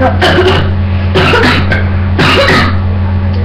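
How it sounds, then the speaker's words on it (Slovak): Several harsh coughs come in two clusters, loud and close, over a steady low hum. "sorry, že kašlem, ale ešte stále som prechladnutý"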